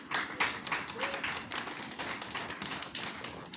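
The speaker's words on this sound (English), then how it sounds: "Give them a round of applause." Audience applause at a sports press conference welcoming an Olympic gymnast, a steady wash of many hands clapping at close range for the full few seconds, with faint voices mixed underneath.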